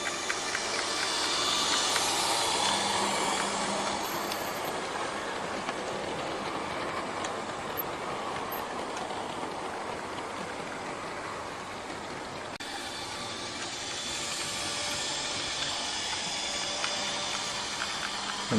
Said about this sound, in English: And now for Western Region Diesel. And here is Western Invader.